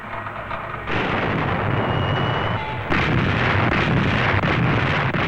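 Naval main battery guns fire in salvos, making loud, sustained roaring blasts that fill the whole clip. A heavy rumble rises sharply once and then again, with no speech over it.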